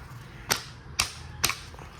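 A car cabin filter is tapped against a surface to knock the dust out, giving three sharp, evenly spaced knocks about half a second apart against faint background hiss.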